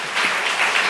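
A congregation claps hands together at a Christmas worship service in church. The clapping is a brief, dense burst of many hands.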